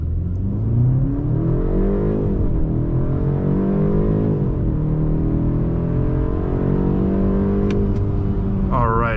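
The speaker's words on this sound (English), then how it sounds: "let's do our first 0 to 60 test and see what we can do off idle." A 2024 BMW 530i xDrive accelerating hard from idle in a 0 to 60 run, heard from inside the cabin as a loud, steady engine note climbing in pitch through several gear changes.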